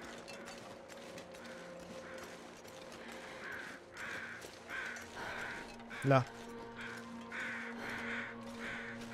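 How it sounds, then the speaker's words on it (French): Crows cawing in the survival video game The Long Dark, a few harsh caws heard over a constant ambient drone with faint mechanical ticking, and someone talking in French over the scene. "On entend des corbeaux"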